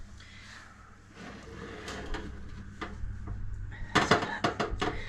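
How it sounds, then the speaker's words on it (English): An oven door is opened to check on jam. Low kitchen hum gives way to a creak and several sharp metallic clunks and rattles of the door and rack, near and moderately loud. "So let's open the door and have a check"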